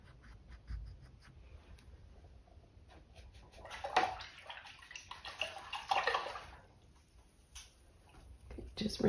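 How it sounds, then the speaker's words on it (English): A paintbrush swishes and swirls in a water jar during an acrylic painting session, faint sloshing and tapping that builds into two brief louder splashing bursts. "Just rinsing my brush out."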